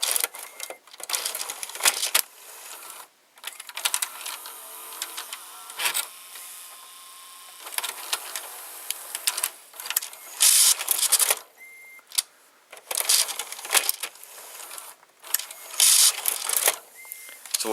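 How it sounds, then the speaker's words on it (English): Inside a 1990 Mitsubishi HS-U82 S-VHS VCR, the capstan motor whirs through the eject worm gear in repeated mechanical runs, buzzing and clicking up close with brief stops between them. "So the capstan motor ejects the cassette in this VCR, and this is the gear for the ejecting"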